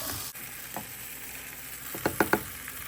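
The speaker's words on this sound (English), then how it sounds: "Mixing it around, mixing it around." Costco tortelloni sizzling in a pan as it is stirred, a steady close fry hiss with a few quick scraping and clacking stir strokes toward the end.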